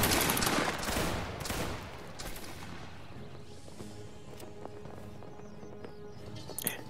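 Grenadier reenactors fire a volley of muskets at training, a dense loud crash that trails into a long fading rumble and quieter aftermath with a few faint knocks.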